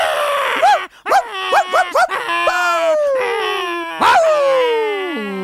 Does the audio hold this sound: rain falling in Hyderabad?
no